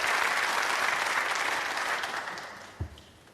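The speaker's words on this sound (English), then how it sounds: "Well, applause." Snooker audience applause at the 2004 Grand Prix final between Ronnie O'Sullivan and Ian McCulloch, a dense round of clapping that gradually fades away.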